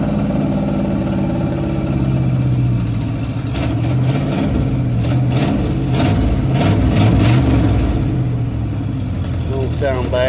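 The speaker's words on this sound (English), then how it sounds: "But it's going, well, maybe it's kind of idle." A car engine idles up close, a steady low rumbling drone with a faintly uneven beat throughout, with someone speaking briefly near the end.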